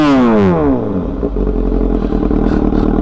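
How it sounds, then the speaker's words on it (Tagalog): Motorcycle fitted with a new SC Project MotoGP exhaust revs loudly and close, a falling rasp settling into a steady, rumbling, crackling idle. "ito na yung bagong exhaust natin ngayon. SC Project na MotoGP."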